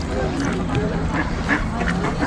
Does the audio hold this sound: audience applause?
no